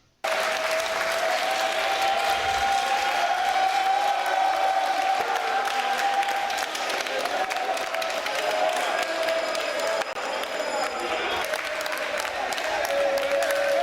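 A crowd applauds and cheers at an association meeting where a list is approved by acclamation, continuous loud clapping with a few whoops and a steady tone running beneath it.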